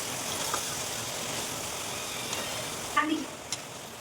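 Cumin, ginger-garlic and green chili paste gets stirred in a hot pan, a soft steady sizzle with a brief louder scrape of a spatula near the end.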